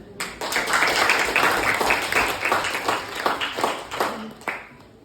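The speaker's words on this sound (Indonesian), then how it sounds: "kita ucapkan tepuk tangan sama kelompok yang satu" Classmates clap for a presenting group in a classroom, a short burst of a few dozen hands close by, sharp individual claps audible as the applause thins out and stops.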